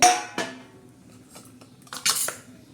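Dried fish (sukat) drops onto a cast iron griddle, giving a sharp metallic clink, then a softer knock and a cluster of light rattling clatters close by, with no talking.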